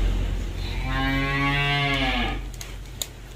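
At a cattle market, a cow lets out one long, loud, close moo lasting over a second, then fades into the low hum of the surroundings.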